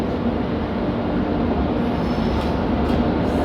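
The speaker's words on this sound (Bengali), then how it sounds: "বিকেল 5:15 ট্রেন এনজিপি স্টেশন এন্টার করছে।" The Uttarbanga Express rolling into NJP station behind a WB7 locomotive, a loud, steady close rumble of wheels and carriages with faint high squeals near the end.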